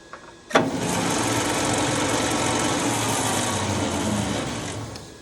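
A manual lathe cuts threads on a metal valve casing, starting with a sharp onset and then holding a steady, dense mechanical whir at close range for several seconds before easing slightly.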